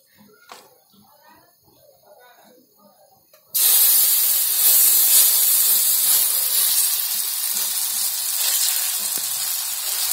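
Oil and batter for dudhi (bottle gourd) dhirde hitting a hot pan, a loud steady sizzle bursting in after a few seconds of quiet with a voice speaking softly underneath.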